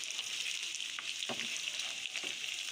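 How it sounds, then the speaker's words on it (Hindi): Potatoes frying in a karahi pan, a soft continuous hiss of sizzling oil with occasional scrapes and stirring clatter, close and moderately quiet, no talk. "अच्छी तरह से इनको साइड चेंज करते रहेंगे इनकी, ताकि सारे आलू जो है ना अच्छी तरह से फ्राई हो जाएं"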